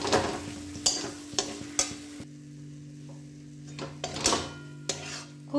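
Masala is sautéed and stirred in a pan with a low sizzle, marked by sharp scraping and tapping strokes of a spatula at irregular intervals, over a faint steady hum.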